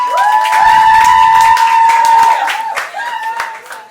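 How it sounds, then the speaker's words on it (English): Guests at an 18th birthday party clap and cheer for the birthday girl. Loud, sustained voiced whoops ride over a patter of close handclaps that eases slightly toward the end. "Let's give a round of applause for Diana"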